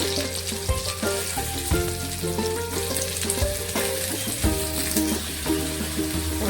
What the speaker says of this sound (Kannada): ಇವಾಗ ಉಳ್ಳಾಗಡ್ಡಿ ಹಾಕ್ತೀನಿ